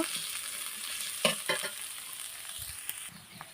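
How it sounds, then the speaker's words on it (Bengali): Chili paste fries lightly in a pan, a faint, thin hiss with a few short scraping clicks from stirring close by, quiet overall. "মরিচার পেস্টটা আমি হালকা একটু ভেজে নেব"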